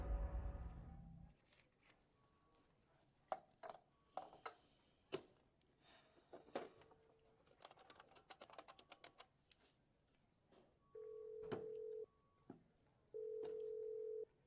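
A telephone rings in a horror movie scene, two sustained electronic ring bursts arriving near the end after a stretch of scattered clicks and taps, fairly close and clear.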